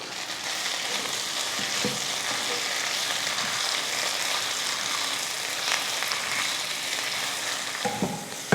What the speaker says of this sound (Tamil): புதினா போட்டு சும்மா அந்த பச்சை வடை போகிறதுக்காக மட்டும் வதக்கிக்கிட்டால் போதும்